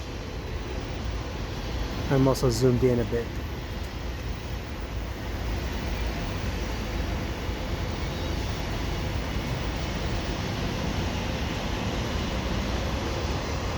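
A CN double-stack freight train rolls past at a street crossing, a broad steady rumble and rush that continues throughout. Brief bell-like tones ring early on and someone speaks briefly over it.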